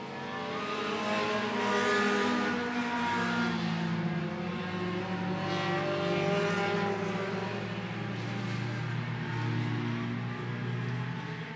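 Sport Compact race cars run single file around I-76 Speedway, a steady, continuous engine drone at moderate distance with a slowly swelling and fading roar as the pack passes.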